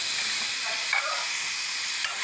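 Chopped vegetables for veg momos sautéing in a pan, giving a steady bright hiss with a couple of faint stirring touches, close and alone.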